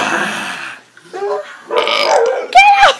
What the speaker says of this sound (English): It's a burping monster!